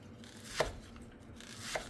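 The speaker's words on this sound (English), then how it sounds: "if you'll leave the root on while you're chopping them" A knife chops onions on a cutting board with two distinct, quiet strikes about a second apart against a hushed kitchen background.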